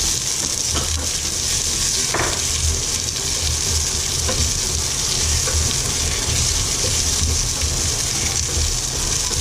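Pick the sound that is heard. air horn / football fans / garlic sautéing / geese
garlic sautéing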